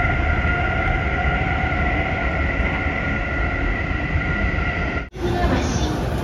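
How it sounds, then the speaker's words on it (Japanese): A Japanese commuter train running through onto the Keiyo Line rumbles along steadily with a constant mechanical drone and hum, then a sudden brief dip before the noise resumes with a brighter hiss. "この電車は京葉線直通。"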